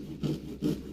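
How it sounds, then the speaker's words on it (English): Wood being cut with a keyhole saw or a reciprocating saw fitted with a wood blade, during a radiant heat floor install in a barndominium. Two rasping strokes close by, in a steady back-and-forth rhythm. "the best way to cut is with a keyhole saw with a wood blade or a sawzall"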